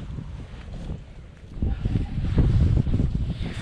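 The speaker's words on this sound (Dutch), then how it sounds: "excuseer me voor de wind" Gusty wind buffets a microphone outdoors beside water during pike fishing in North Holland, rumbling in bursts that swell louder in the second half.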